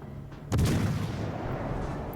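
Naval guns firing in World of Warships Legends: a heavy boom hits at once and rolls into a sustained low rumble that carries through the whole clip, with no talk.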